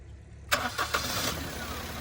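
A 2016 Maruti Celerio VXi automatic engine cranks briefly and catches, then settles into a steady idle that runs to the end.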